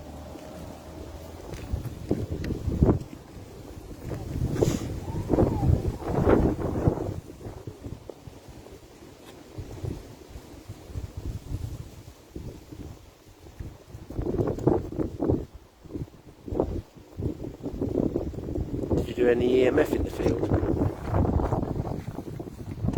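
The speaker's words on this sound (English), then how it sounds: "It's too windy. You can hear it." Heavy wind buffeting the microphone in loud, uneven gusts and rumbles, with a man's brief question spoken partway through.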